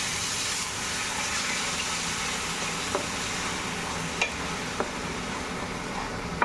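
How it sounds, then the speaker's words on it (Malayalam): A paste of onion and spices sizzles in a pan with a steady soft hiss, broken by a few faint clicks of the spoon, close and without speech. "സവാള നന്നായി വഴറ്റിയതിന് ശേഷം നമ്മൾ നേരത്തെ അരച്ച് വെച്ചിരിക്കുന്ന പേസ്റ്റ് ഇതിലേക്ക് ആഡ് ചെയ്ത് കൊടുക്കാം"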